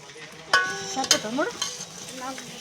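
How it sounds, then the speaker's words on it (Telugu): Chili powder being stirred into a dish cooking in a pan, close scraping spoon strokes over a faint sizzle, with a couple of sharp clinks against the pot and no talk. "మంచిగా మిక్స్ చేసుకోవాలి"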